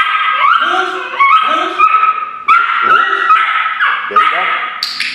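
A dog barks and yips repeatedly while being trained on a speak command, with a person talking over the sounds throughout; the barks come in a steady series of short, close, fairly loud bursts.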